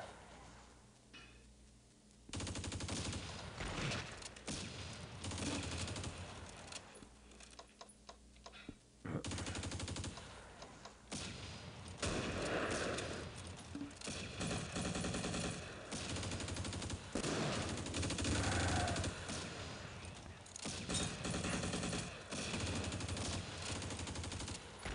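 Sustained machine gun fire in the war game Close Combat, rapid bursts running nearly continuously and loudly with brief gaps, dense crackling shots layered over one another.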